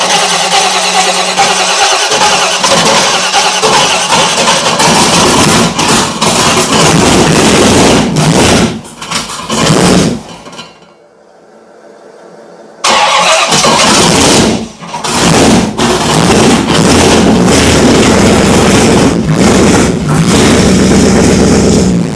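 A Cutlass car engine cranks and fires up, then revs loudly, dropping out briefly before roaring back at a rough idle and further revving, close to the microphone throughout.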